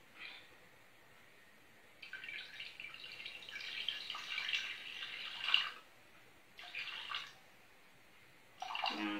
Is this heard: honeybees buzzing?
no